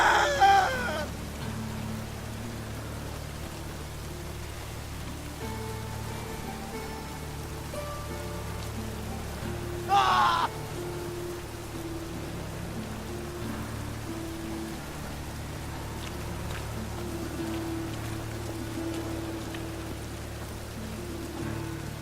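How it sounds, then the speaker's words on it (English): Steady rain falling in The Witcher 3: Wild Hunt, a soft continuous patter with a low ambient bed and a brief brighter sound near the middle, no talk over it. "I like rain. Keeps the rogues indoors."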